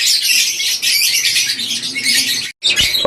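Pet birds in a cage squawk and chirp loudly and continuously at close range, with a brief silent gap near the end before the calls resume.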